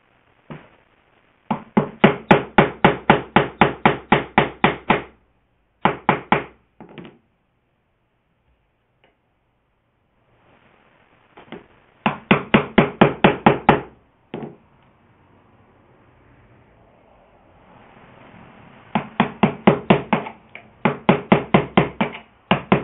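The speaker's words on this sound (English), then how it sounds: "took my chisel and kind of outlined where I need to go, and now I just got a whole lot of chopping" Steel chisel struck with a mallet, chopping out wood for a three-legged Chinese stool: bursts of rapid, sharp knocks in fast runs, separated by pauses and quieter scraping, close and loud.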